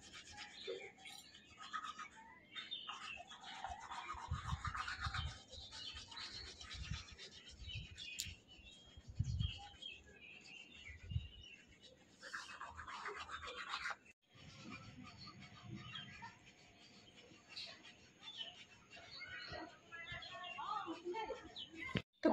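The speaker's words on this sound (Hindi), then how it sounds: "और ये रहा ब्रश और मैं अभी ब्रश करने जा रही हूँ।" A toothbrush is scrubbed over teeth in a morning bathroom routine, giving faint, close, irregular bristle scratching and rubbing in short bursts, with a voice heard now and then.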